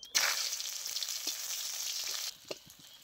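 Onions dropped into hot oil with bay leaves, a whole chilli and cumin, bursting into a loud hiss that settles into steady sizzling, then a few stirring taps near the end.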